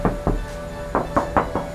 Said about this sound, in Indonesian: Mungkin kalau kalian pernah lihat orang ketok-ketok mobil